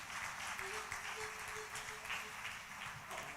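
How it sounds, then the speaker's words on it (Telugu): Wedding guests clap together in a steady, dense burst of applause that fills the whole stretch at moderate loudness, with a faint murmur of voices underneath. "చప్పట్లు కొడదాం, గట్టి కొడదాం."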